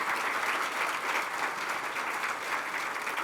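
Audience applause at a conference session on emerging technologies, a dense, steady wash of clapping from a large crowd that fills the whole stretch at even loudness.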